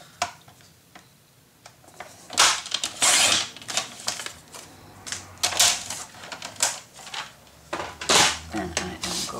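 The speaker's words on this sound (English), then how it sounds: "And then I cut my paper." Design paper is being cut for a Halloween scrapbook mini album, with a series of crisp snips and papery rustles in irregular bursts, close and fairly quiet.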